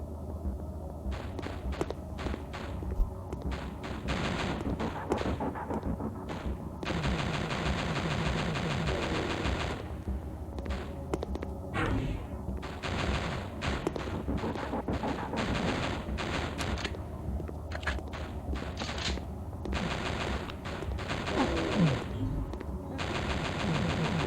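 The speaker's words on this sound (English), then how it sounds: "A Vikram Zeta Red automatic rifle in battle-worn condition, a common rifle among militia and security forces throughout the galaxy." Video game gunfire from a battle-worn Vikram Zeta Red automatic rifle, dense rapid bursts rattling almost continuously over a busy, loud combat backdrop, with heavy and light shots mixed throughout.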